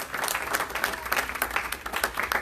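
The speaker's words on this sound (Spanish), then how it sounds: "honre al Señor, denle el aplauso a Él" A church congregation applauds with steady, dense clapping that fills the whole moment, a broad wash of many hands with no voices standing out.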